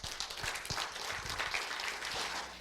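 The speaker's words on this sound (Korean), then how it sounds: "큰 환영의 박수 부탁을 드립니다." Welcoming applause from a lecture audience at a Korean humanities philosophy forum as a professor is invited to the podium, a brief steady patter of many hands.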